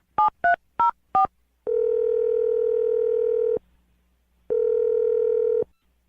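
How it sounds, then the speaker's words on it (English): Four short telephone keypad tones beep in quick succession as a phone number is dialed, then two long steady ringback tones sound with a silent gap between them, clear and close with no voices. "I'm going to dial her phone number right now."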